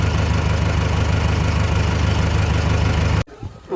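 A steady, loud engine rumble from a tractor, idling evenly with heavy low tones, then cutting off abruptly near the end.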